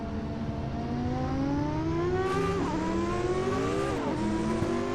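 Racing engines of a Camaro and a Ferrari in a 2000 Grand-Am race at Phoenix make a loud, continuous drone that climbs steadily in pitch, broken by quick shifts partway through and again toward the end.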